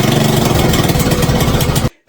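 A mini bike's small engine fitted with a new carburetor runs at a steady, loud, close buzzing idle, then cuts out abruptly near the end.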